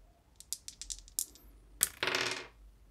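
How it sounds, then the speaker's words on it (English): Two dice are rolled for a tabletop role-playing game: a quick run of small hard clicks and clatters, then a brief louder rattling tumble before settling, close and clear with no talk. "What that means is that you roll two dice."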